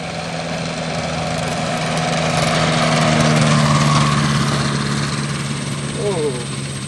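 A microlight aircraft's engine and propeller drone steadily as it comes in to land in the Philippines, a continuous mid-distance hum that swells slightly midway, with voices faintly present.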